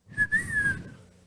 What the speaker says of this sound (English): You hear this whistle